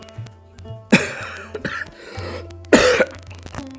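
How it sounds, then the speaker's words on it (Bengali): A person with a cold coughs twice, two loud, close, harsh bursts about two seconds apart, with softer throat noises and breaths between them. "আমার কেমন ঠান্ডা লেগেছে, প্রচুর কাশি হচ্ছে"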